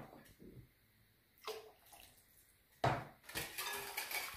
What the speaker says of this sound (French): Puis je vais ajouter la levure avec l'eau